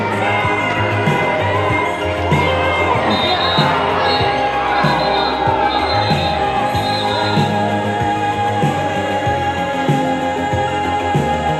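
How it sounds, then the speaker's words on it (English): Loud, dense roar of a roller derby crowd and team benches during the closing seconds of a jam at a season championship bout, with continuous cheering, shouting and whoops throughout and mixed voices. "A lot of commotion going on over here from the benches and from the crowd for the last few seconds of that jam"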